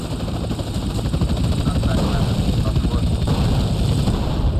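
Helicopters in GTA San Andreas throb loudly and continuously during a mission, a dense pulsing rotor roar with a talking voice over it and what may be gunfire.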